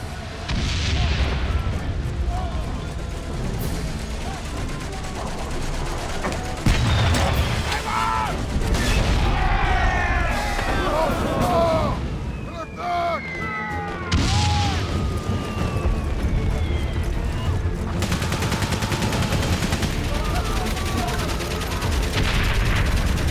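Distant World War I artillery booms and scattered gunfire rumble through a battlefield scene in the game Valiant Hearts, with a sustained war din and occasional sharper bursts beneath a voice speaking at times.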